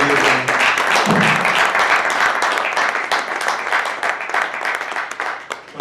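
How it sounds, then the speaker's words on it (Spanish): A room of diners at a demography debate luncheon breaks into sustained applause, dense clapping filling the whole stretch at a steady loud level and thinning slightly toward the end, with a brief murmur of voices near the start. "Le pediría un aplauso porque lo ha conseguido"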